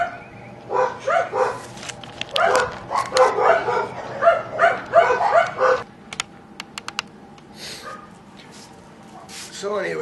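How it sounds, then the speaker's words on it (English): Neighbouring dogs bark repeatedly in clustered bursts, moderately loud and somewhat distant, over a steady hum, followed by scattered clicks and taps. "there goes the neighbor's dogs."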